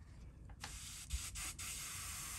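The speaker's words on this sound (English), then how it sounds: "Again, I'm spraying on 10 to 12 pounds of pressure." A steady, close airy hiss of an airbrush spraying paint at 10 to 12 pounds of pressure onto a fishing lure, with a few brief breaks and restarts of the spray.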